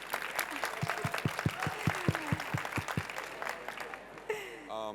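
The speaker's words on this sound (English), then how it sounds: "I want you to applaud him more because he's here as a testimonial." Audience clapping for a testimonial speaker at a medical talk on obesity treatment, steady applause from a crowd that fades toward the end as a voice begins.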